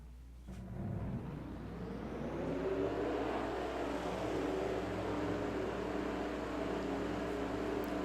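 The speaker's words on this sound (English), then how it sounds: "Drivers, start your engines!" Truck engines in a racing video game start up and rev into a steady, loud, sustained roar. The droning mass of motors holds for several seconds with no speech.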